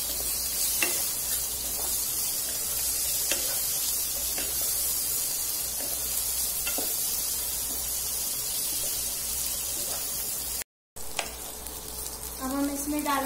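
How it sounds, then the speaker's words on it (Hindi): Potatoes for jeera aloo frying in a pan, a steady close sizzle with periodic scraping stirs of a spoon, briefly interrupted before the sizzling resumes. "और फिर मैं इसमें हमारे आलू डाल दूंगी। मिला लेंगे अच्छे से।"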